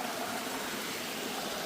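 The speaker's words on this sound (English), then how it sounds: "waterfall." A cascading waterfall along the Appalachian Trail gives a steady, broadband rushing hiss, faint and even throughout with no voices.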